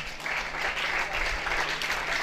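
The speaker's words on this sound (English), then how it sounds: "Don't be tired of clapping" Sustained, dense applause from an audience at a school anniversary prize-giving ceremony at Holy Family College, Oku Abak, fills the whole stretch as a steady wash of clapping hands.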